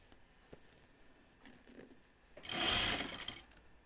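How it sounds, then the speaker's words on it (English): A sewing machine stitches an anorak sleeve into place, one fairly loud continuous burst near the end after a stretch of quiet handling noise. "I'm just going to sew this in the way the notches are lining up."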